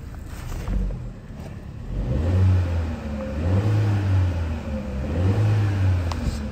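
The 1.4L engine of a 2019 Chevy Trax with a deployed driver's airbag revs three times in even bursts, each climbing and dropping back to idle, heard up close with no voices.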